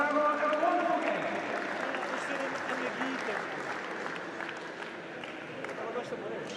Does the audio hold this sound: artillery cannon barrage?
no